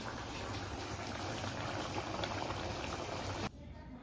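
Jackfruit and prawn curry boiling steadily in a pot, a dense continuous bubbling that cuts off sharply near the end.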